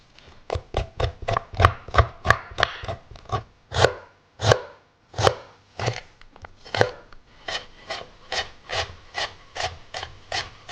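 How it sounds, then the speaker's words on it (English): Back of a small teaspoon scraping the skin off fresh ginger root, a rapid series of rough, rasping strokes in uneven bursts, close and crisp, with brief pauses between runs of scrapes. "we're just going to use the back of a small teaspoon and we're just going to scrape that skin off"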